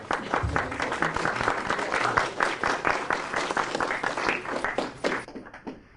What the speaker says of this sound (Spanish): Bueno, un aplauso para ustedes.